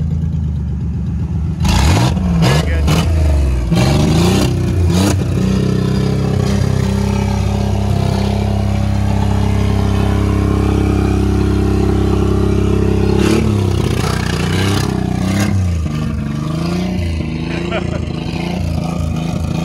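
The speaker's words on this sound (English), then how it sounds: "The muffler's cut off, but there's still smoke coming out of it." A modified Chevrolet Equinox engine with its muffler cut off revs loudly and roughly, climbing and falling in long harsh bursts close by, with people talking over it at times.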